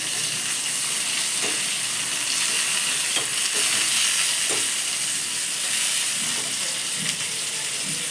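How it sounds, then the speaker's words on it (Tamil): Tomatoes sauté in oil, giving a loud, constant close sizzle with faint scraping stir taps now and then. "இது ஆயிலே நல்லா வதங்கட்டும் அப்போ தான் அதோடய ஃப்ளேவர் நல்லாயிருக்கும் தக்காளி சேர்த்து பண்ணுறேன்"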